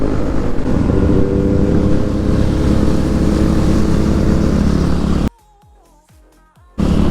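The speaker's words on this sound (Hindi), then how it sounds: "ये गई ड्यूक 390 आगे।" A KTM Duke 390 motorcycle on a group superbike ride roars past loudly and close, with steady engine and wind noise that cuts off abruptly near the end.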